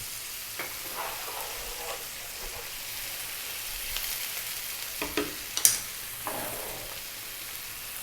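Garlic ginger paste fries quietly in a pan for curry, a soft steady sizzle with scattered light taps and spoon scrapes, growing a little busier toward the end.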